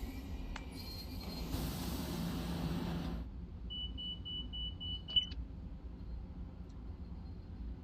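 Warning beeper in a train simulator cab: a steady thin electronic tone sounds for about a second and a half with a small click near its end, above a low rumble of train running noise.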